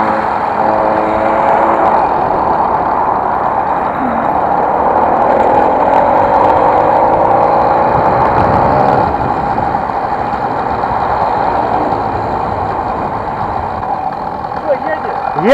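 A motorized bicycle's small engine running on a long road ride, a steady droning rumble that continues under conversation between riders.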